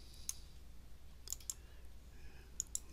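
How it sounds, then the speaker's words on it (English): A few faint, sharp computer mouse clicks from right-clicking to add a new tag in PDF software, scattered singly and in quick pairs against a quiet room hum. "right click and click new tag and change the type"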